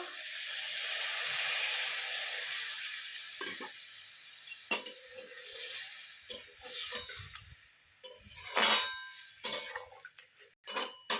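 Water poured into a hot pan of cooking okra, a loud hissing sizzle at first that gradually fades and breaks into scattered bubbling and clinks over about eleven seconds.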